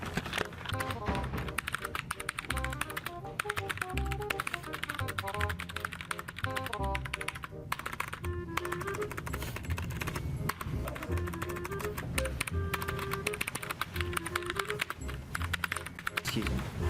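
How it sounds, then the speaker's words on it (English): Rapid, loud clacking of computer keyboard keys fills a quiet library, steady and close, with melodic music playing underneath. "Your typing is insanely loud."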